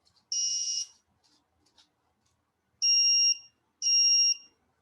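An Arduino capacitive touch sensor gives three short, high electronic beeps when touched: one at the start, then a pair close together after a pause, each clean and piercing against near silence.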